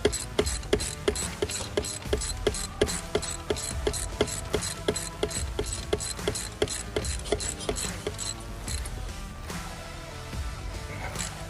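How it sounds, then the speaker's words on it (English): A hand ratchet clicks rapidly and rhythmically while tightening a bolt during a timing belt change on a car engine, loud and close, with a brief pause before the clicking resumes. "Stick a ratchet on it."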